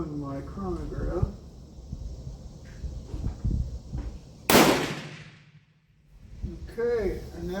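A single sharp, loud gunshot from a Berthier model 1916 rifle firing powder-coated cast bullets cracks out midway and fades into a short echo, with someone talking before and after.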